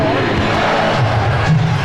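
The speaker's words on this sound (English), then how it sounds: "Chant of defense in the crowd." An arena crowd at a 1996 NBA Finals game between the Chicago Bulls and Seattle SuperSonics makes a steady, dense roar that swells slightly, with a rhythmic chant rising near the end.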